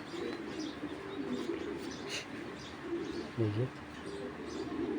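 A silver-eyed racing pigeon at a pigeon farm gives a short, low coo near the end, faint against a quiet, hissy background with soft chirps.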